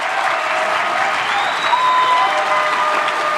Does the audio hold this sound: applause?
yes